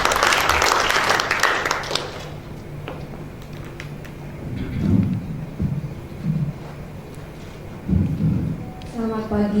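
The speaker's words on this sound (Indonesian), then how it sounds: "Mari kita beri tepuk tangan" Audience applause at a Betawi cultural exhibition, a loud burst of clapping at the start that quickly dies away, followed by muffled talk and low thumps over a public address system.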